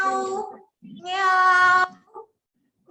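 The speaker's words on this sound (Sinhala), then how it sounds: "පූසා තමයි න්‍යාව් කියන්නේ නේද?" A cat meows in a preschool animal lesson, with a couple of drawn-out, tonal cries close up and a short gap and softer sound between them.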